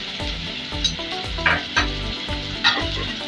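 Fish masala with sour yogurt frying in a pan gives a steady close sizzle, with soft stirring scrapes and a few brighter crackling bursts over about three seconds and no talk.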